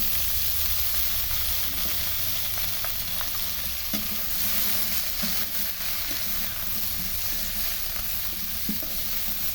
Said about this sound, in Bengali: পেঁয়াজগুলো ভাজা হয়ে গেছে, এখন দিয়ে দেবো কচু